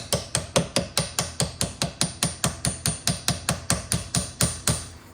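A hammer taps a greased driveshaft slip yoke into a transmission, striking about twenty even, ringing metallic blows in a steady quick rhythm, close and loud with no talking.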